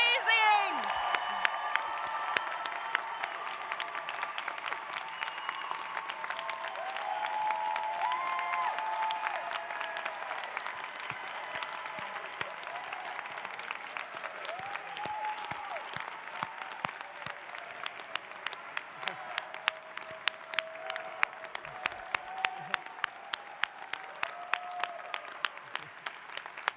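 Sustained audience applause at a law school graduation convocation, dense steady clapping from a large crowd with occasional louder claps and whoops, continuing for the whole stretch.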